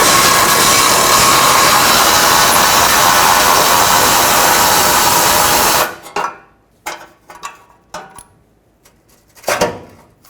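Harsh, continuous power-tool whirring for several seconds removing exhaust shield bolts on a 2009-2010 Ford F-150, then stops, followed by scattered metallic clinks and clanks.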